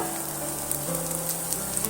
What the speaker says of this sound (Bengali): দিয়েও আবার কিছুক্ষণ ধরে ভাজা ভাজা করে নেব